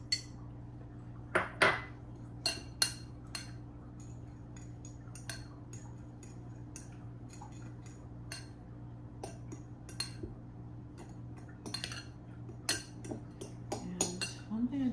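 A spoon scrapes and clinks against a bowl as broccoli puree is mixed into dry ingredients for handmade ravioli dough, intermittent close taps and knocks over a constant low electrical hum, fairly quiet.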